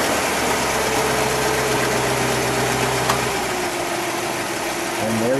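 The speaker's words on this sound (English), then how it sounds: "that sounds a little high idle" A 1950 Buick Roadmaster convertible engine runs at high idle, a steady close smooth hum with a low, even drone that holds throughout, while people talk over it.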